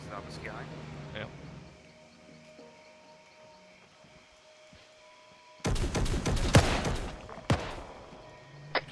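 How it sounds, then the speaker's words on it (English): Suppressed gunshots go off in a sci-fi military shooter game as a cluster of sharp, muffled cracks in the later part, followed by a couple of separate shots, with quiet talk and background sounds before them. "Suppressed shots front, southwest."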